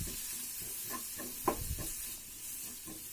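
Onions and masala frying slowly in a pan for a brinjal-in-curd dish, a soft low sizzle with a few faint stirring scrapes.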